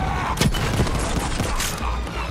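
Shotgun blasts in the video game Borderlands 3, a few sharp bursts near the start and middle over a dense, busy backdrop of game combat noise, with no clean pause between them.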